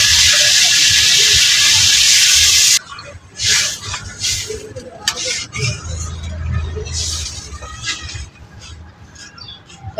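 Water poured into a pan of frying vegetables, a loud burst of hissing that cuts off abruptly, then quieter bubbling, clinks and scattered crackles.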